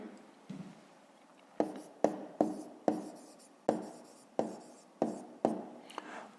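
A pen or pencil writes on paper during a fifth-grade maths lesson. It gives a series of about ten close, crisp scratching strokes, each a short burst that fades quickly, spaced irregularly and heard on their own.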